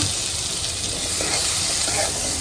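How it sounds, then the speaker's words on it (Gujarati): Onions and tomatoes fry in oil over a low flame, making a dense, continuous hiss and sizzle that stays even and close throughout, without distinct pops or voices. "આપણે થોડું તેલ ઉમેરીને આપણે જે ડુંગળી ટમેટા લીધા હતા એ ધીમા તાપે ફ્રાય કરવાના છે"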